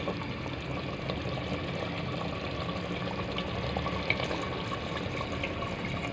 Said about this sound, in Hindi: अब इसमें हम पानी ऐड करेंगे ताकि गोश्त गल जाए